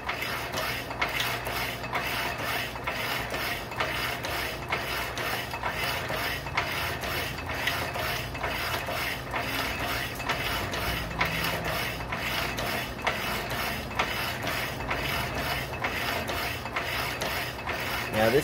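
A power hacksaw slowly cutting metal, a steady repeating mechanical rasp and clatter of the blade stroke running on at moderate volume with no talk.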